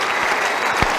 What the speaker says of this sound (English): The stand is absolutely jam-packed, and she will get raucous applause.